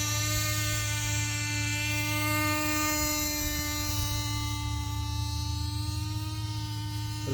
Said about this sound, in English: Not a very responsive helicopter. I'm pushing a lot of forward cyclic to make it go forwards.